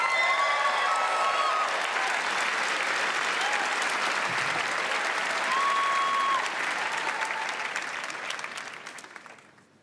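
Sustained, loud applause from a comedy competition audience at a national grand final, a thick wash of clapping that holds steady before thinning and fading out toward the end.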